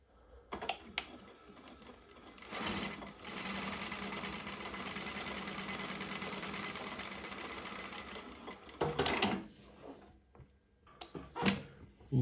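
A Prosew PS-1985 industrial sewing machine stitches a decorative pattern in one sustained run of rapid, even clatter, with a few clicks and handling knocks before and after.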